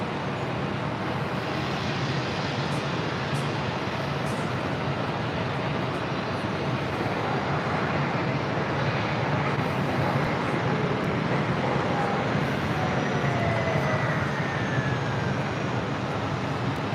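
A JetBlue Airbus A320 airliner taxiing at JFK airport toward Terminal 5, its engines giving a broad, steady roar that holds evenly throughout, fairly loud and without talk.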